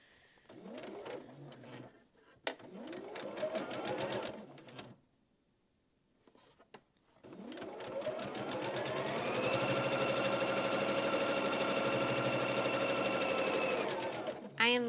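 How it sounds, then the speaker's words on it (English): Sewing machine stitching small and large quilt units for a baby quilt, running in short bursts, then a brief pause, then a long steady run that rises in pitch and holds, close and loud. "in between sewing small units, I'm going to sew my large units"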